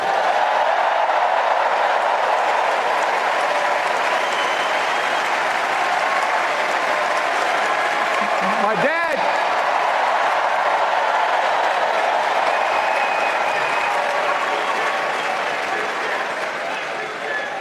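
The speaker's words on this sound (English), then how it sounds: "Let's give a special round of applause to our First Lady, Jill Biden" A large crowd applauds warmly for First Lady Jill Biden, steady dense clapping with some cheering sustained for nearly eighteen seconds at close, even loudness.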